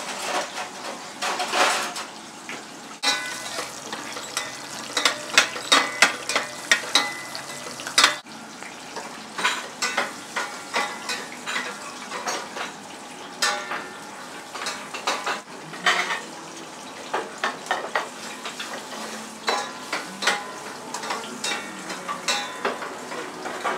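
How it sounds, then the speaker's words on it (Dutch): Finely chopped ingredients sauté gently with dill in a pan, giving a soft continuous sizzle, while a utensil repeatedly scrapes and clinks against the metal in an irregular rhythm, close-up with no talking. "En dan laten we gaar worden met wat dill erbij. Lekker aanfruit, niet te laten kleuren."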